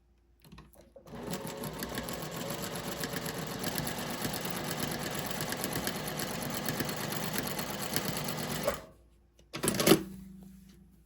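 A sewing machine quilts a gift bag, running at a steady fast rattle for about eight seconds, stopping, then giving a short final burst.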